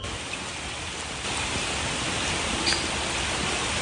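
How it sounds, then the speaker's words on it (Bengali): Light rain falling steadily through a rainy day outdoors, a dense even patter that swells slightly partway through, moderately quiet with no talk. "আবার এখন বৃষ্টি শুরু হয়ে গেছে। সারাদিন আজকে টুপটাপ বৃষ্টি হয়েই চলেছে।"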